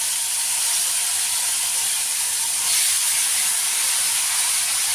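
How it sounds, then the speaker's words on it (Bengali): Amudi fish slipped gently into hot oil over a lowered gas flame give a strong, steady, close hiss that swells briefly midway, with no talking. "তেলটা গরম হয়ে গেছে এবার আমি গ্যাসটা কমিয়ে আস্তে আস্তে মাছগুলো ছেড়ে দেবো"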